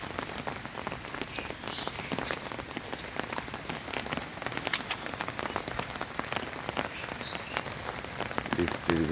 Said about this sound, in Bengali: তারপরে অনেক প্রচুর পরিমাণ বৃষ্টি